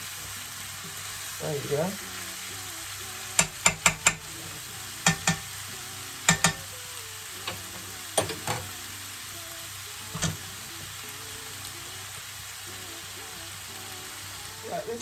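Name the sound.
smoked turkey and mushroom stew cooking in a pan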